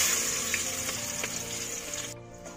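Ginger drops into hot oil in a home kitchen pan, a steady bright sizzle and crackle with a few stirring clicks, close and loud, cutting off sharply near the end.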